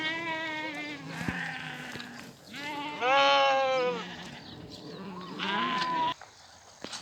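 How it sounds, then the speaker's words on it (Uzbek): Sheep grazing in a mountain pasture bleat in several loud, wavering calls, one after another over a steady outdoor background, with some quiet talk. "Yaylovda haqiqiy maza qilib o'tlab yuribdi qo'ylar."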